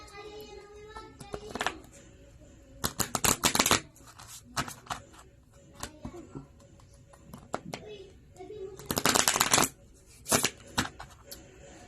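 A deck of fortune-telling cards is shuffled in several quick riffling bursts, close and crisp, separated by quieter pauses with faint handling sounds.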